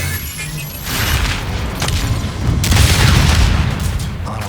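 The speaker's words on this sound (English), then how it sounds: "The detonation will ignite the core." A self-destruct detonation ignites a ship's core in the shooter Call of Duty: Infinite Warfare: a loud, continuous roaring explosion that swells into a heavier rumble of blasts and debris, filling the whole stretch.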